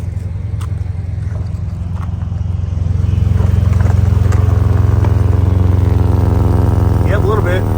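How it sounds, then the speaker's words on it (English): A 2017 Ford F-150 Platinum EcoBoost with an exhaust leak runs close by, giving a loud, steady, low engine drone with a faint ticking puff. The engine rises slightly partway through, and someone speaks briefly over it near the end. "See if I can hear that exhaust leaking down here real quick."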